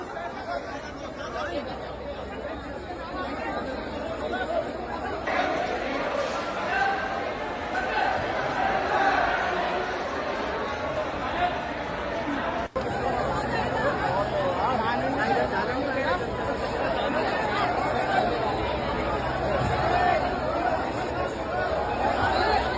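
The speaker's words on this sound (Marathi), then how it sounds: "मेट्रो स्टेशन्स बंद असल्यामुळे आपण पाहतोय मोठ्या प्रमाणात मेट्रो स्टेशन्सवर गर्दी होते" A large crowd gathers at closed Delhi metro stations, making a steady, dense hubbub of overlapping voices with occasional laughter throughout.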